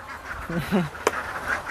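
Ducks on a Thai farm garden give a few short nasal quacks close by, with a sharp click and light background voices around them.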